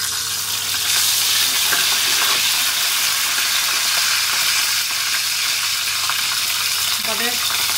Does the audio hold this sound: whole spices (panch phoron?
yes